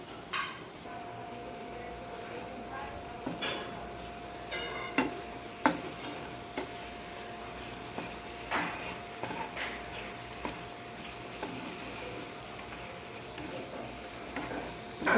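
Bitter gourd kuzhambu simmers in a pot as tamarind water goes in, with a soft, steady bubbling hiss and scattered clinks and scrapes of a spoon against the pot, fairly quiet throughout.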